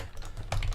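Short burst of typing on a computer keyboard at a desk, a few quick close key clicks with a slightly louder flurry near the end.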